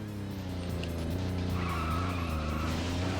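In a SEGA racing video game, a car brakes hard with a sustained, loud tire squeal and skid over a steady engine drone.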